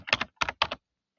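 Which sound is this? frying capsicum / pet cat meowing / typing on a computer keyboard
typing on a computer keyboard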